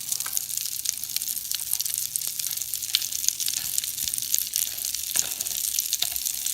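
Pop Rocks candy crackling and fizzing in water during a small experiment: a dense, steady hiss of tiny pops, close and fairly loud, with sharper snaps scattered throughout and no talking.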